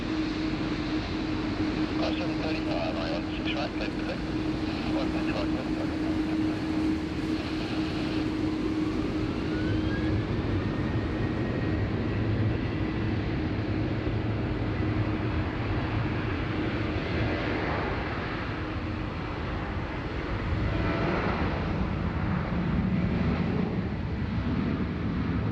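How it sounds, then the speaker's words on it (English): An Air India airliner, flight 301 to Delhi, departs Sydney Airport with a sustained distant engine roar that swells and shifts in pitch as it climbs away. "That's Air India Flight 301 heading back to Delhi in India."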